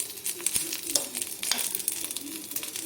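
Curry leaves, chana dal and dried red chilies crackle and sizzle in hot oil, a steady bright frying hiss broken by sharp pops and spatters, close and continuous with no talking.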